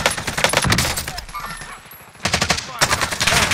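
Rapid automatic gunfire from Call of Duty Warzone bursts out loud and close in two long volleys separated by a brief lull, with voices talking faintly in the background.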